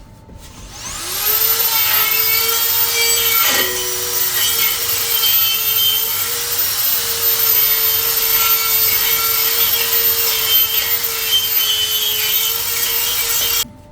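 A die grinder running at 28,000 RPM with a Scotch-Brite disc strips paint and rust from pipe work, a loud, high-pitched continuous whine that spins up at the start and grinds steadily before stopping abruptly.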